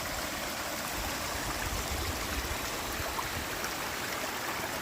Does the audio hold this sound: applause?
no